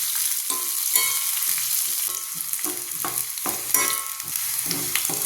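Small red shallots sautéing in oil with mustard seeds, urad dal and curry leaves for a drumstick and jackfruit seed kuzhambu, a steady close sizzle with spatula scrapes and stirs recurring throughout, no talking.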